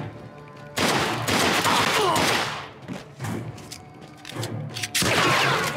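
Gunfire in the video game Mafia II: loud, dense bursts of overlapping shots with heavy thuds, broken by short lulls before firing resumes.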